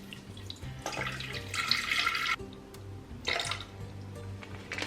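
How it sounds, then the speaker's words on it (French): Water pours into a food processor bowl while preparing homemade pita bread dough, a close splashing stream in two bursts, the first longer, with a brief pause between. "on va mettre de l'eau à l'intérieur du robot. Donc je vais mettre 300 g d'eau."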